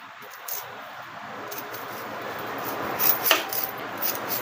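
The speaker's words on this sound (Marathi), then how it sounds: "आपल्याला कांदे बारीक बारीक आणि चौकोन कापून घ्यायचे" Knife chopping onion into small square pieces on a board, a steady run of soft close taps with a few sharper cuts near the end, no voices.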